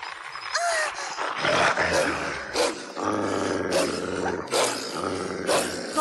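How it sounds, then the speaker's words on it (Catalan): Wild dogs growl and snarl in an animated cartoon scene, a dense, rumbling layer of close growls that keeps going the whole time, swelling in repeated bursts, with a few brief voiced cries mixed in. "Gossos salvatges!"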